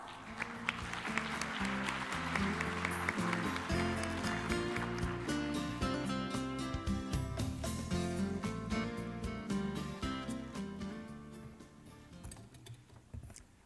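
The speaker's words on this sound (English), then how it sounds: "please give him a big round of applause" Sustained applause from a sizable audience, a dense patter of clapping that slowly thins out toward the end.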